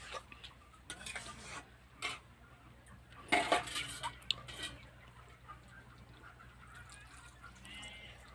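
Mutton and potatoes being stirred in a pan with a little water, faint scraping and clinking of a spoon against metal in irregular bursts, fairly quiet and close.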